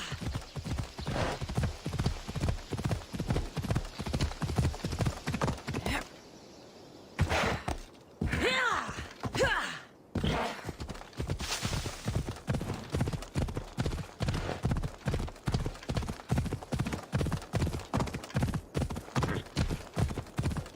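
Horse hooves in the video game Assassin's Creed Odyssey, a steady rhythmic clip-clop of a galloping mount, close and clear, with a couple of short pauses midway and a snort or whinny.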